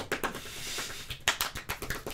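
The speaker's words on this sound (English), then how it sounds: "Everybody clap your hands." Hands clapping: a string of sharp, close claps in an uneven rhythm, with a short gap in the middle before a quicker run resumes.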